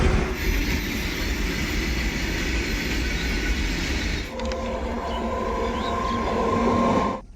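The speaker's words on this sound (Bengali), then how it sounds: "দেখতে পাচ্ছে ট্রেন আসছে এই লাইনে" A train runs loudly and close along a village railway line in a steady heavy rumble, then shifts partway through to a thinner clatter with high metallic wheel squeals before fading.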